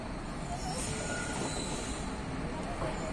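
A train approaching along the track at night, a steady broad rumble and rail roar filling the whole stretch, fairly loud and continuous.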